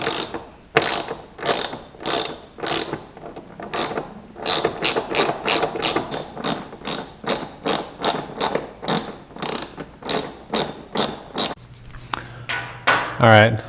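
A ratchet wrench clicks in fast repeated bursts, loud and close, as 13 millimeter nuts on a car's transmission mount are broken free, with short pauses between strokes and a brief voice near the end.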